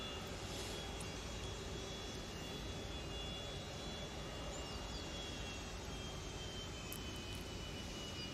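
A Virgin Atlantic jet roars steadily on the runway, a continuous broad engine rush with a thin whine, heard from a distance at low level.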